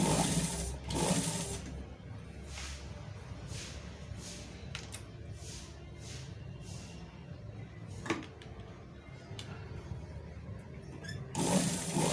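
A sewing machine stitches thin piping along a neckline, its steady run of quiet stitching broken by short pauses and a sharp click, with a louder burst of fabric handling at the start and end.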